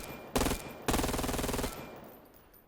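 A P90-style submachine gun in the VR shooter VAIL VR firing two quick, loud bursts of rapid shots, the second burst longer, then a fading echo.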